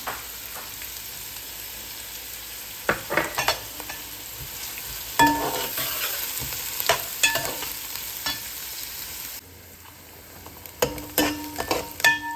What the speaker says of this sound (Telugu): ఉల్లిపాయ వేసి బాగా పచ్చి వాసన పోయేదాకా ఉల్లిపాయ వేగాలి